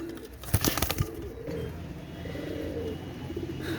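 Pigeons, including a Pakistani Teddy breed, coo in soft repeated throaty calls near the start, followed by a quieter stretch of low background noise with occasional faint coos.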